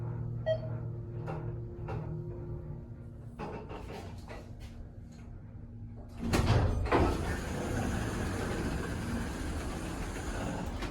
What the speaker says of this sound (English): It's a high hydraulic elevator.